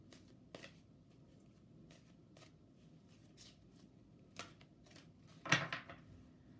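Oracle cards are shuffled by hand, with soft rhythmic riffling and flicks over a low background hum, ending in a louder burst of card slapping near the end.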